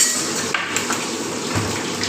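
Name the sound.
stirring mutton curry spices in a cooking pot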